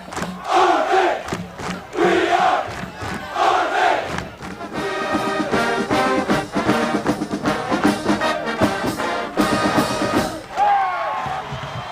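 A capacity stadium crowd of 32,000 roars at a college football game, with rhythmic chanting bursts and sustained cheering near and loud, and a few shouted whoops standing out.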